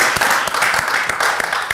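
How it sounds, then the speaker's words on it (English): An audience clapping at a Nigerian Nollywood film event, a dense continuous patter of many hands applauding nearby, fairly loud and steady throughout. "Let's clap for her again."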